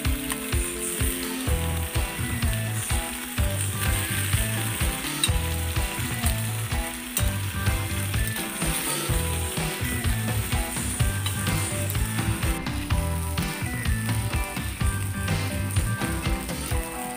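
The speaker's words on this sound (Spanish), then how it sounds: "voy a ir acomodando el resto del pollo poco a poco para que también se vaya sellando" Chicken pieces being seared in a pan for a stew give a steady, continuous sizzle with no gaps, heard under constant background music.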